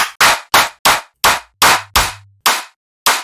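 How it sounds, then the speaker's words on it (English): Snappy clap sample in a music production session, nine sharp dry claps in a loose, slightly uneven rhythm with short gaps of silence between them. "we can fucking post-process this clap because it's fucking lame"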